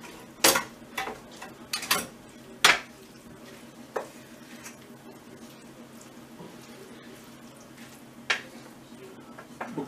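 A utensil scrapes and clinks against a pan while fried minced meat with parsley is stirred, giving a few sharp irregular knocks over a faint background sizzle.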